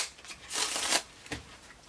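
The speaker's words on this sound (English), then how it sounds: "Let's first shuffle this pack on out." A deck of cards being riffled, a soft fluttering burst followed by a shorter second ripple, close and fairly quiet.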